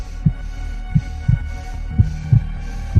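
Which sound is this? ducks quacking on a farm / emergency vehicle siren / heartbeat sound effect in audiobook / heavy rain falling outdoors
heartbeat sound effect in audiobook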